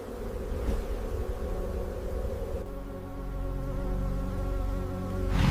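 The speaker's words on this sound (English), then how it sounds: "heat from within, insects from every direction" Swarming insects hum over the Arctic plains in a continuous, dense buzzing drone with layered tones, steady throughout and swelling slightly louder toward the end.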